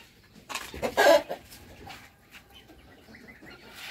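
Chickens cluck nearby in a few short bursts, the loudest around the middle, then fainter scattered clucks over a quiet farmyard background.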